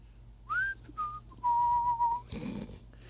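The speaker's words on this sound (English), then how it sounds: "That's the whistle if good things are about to happen." Clear solo whistling by one person, a rising note followed by several sustained tones with short pauses, close and moderately loud, ending with a brief rustle, in a room during a teleprompter setup.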